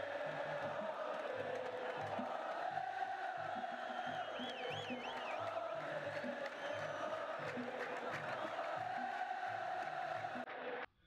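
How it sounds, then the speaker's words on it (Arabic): Real Madrid fans chanting at a Champions League final against Juventus, a dense crowd roar with a rhythmic sung chant swelling and falling steadily, heard from within the stadium, ending abruptly. "جماهير ريال مدريد شو تقول؟"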